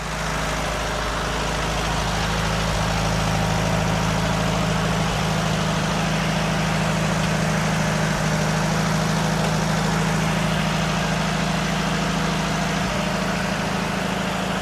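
An old tractor engine runs at a steady idle, a loud continuous low rumble with constant vibration and no talking over it.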